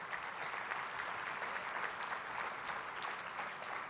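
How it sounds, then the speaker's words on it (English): Steady, moderate applause from an audience at the Elmhurst College governmental forum, even and continuous throughout with no talking. "Please give Dr. Ray a round of applause."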